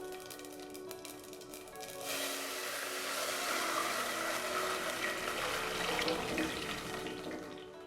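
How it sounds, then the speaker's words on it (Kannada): Cooking water from boiled pigeon peas is poured into a hot tempering, a continuous gushing pour of liquid lasting several seconds, moderately loud and heard alone. "ಇದಕ್ಕೆ ತೊಗರಿಕಾಳು ಬೆಂದಿರೋ ನೀರನ್ನು ಸೇರಿಸ್ಕೊಳ್ಳೋಣ."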